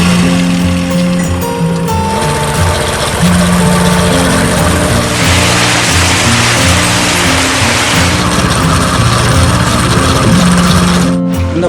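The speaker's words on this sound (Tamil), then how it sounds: "இப்போ பைக்கை ஸ்டார்ட் பண்ணிக்கிறேன்." A motorbike engine drives a homemade concrete mixer loaded with cement and M-sand, idling steadily and loudly up close with a constant churning drone that runs the full length.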